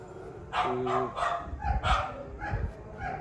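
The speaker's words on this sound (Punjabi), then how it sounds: "ਭੌਂਕਣ ਕੁੱਤੇ ਰੱਖੇ ਹੋਏ ਦੋ ਆਪਾਂ ਨੇ" Two guard dogs bark several times in short, uneven bursts, moderately close, with some yips between barks.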